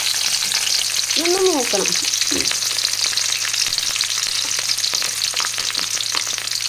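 Garlic and green chillies frying in hot oil with mustard seeds, a loud steady sizzle and crackle close up, with a brief spoken phrase near the start.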